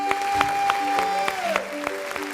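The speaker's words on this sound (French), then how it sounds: "On va applaudir déjà pour Move Africa." A live audience applauds at a sponsored show, scattered claps standing out over a sustained music bed with tonal notes, moderate in level and somewhat distant.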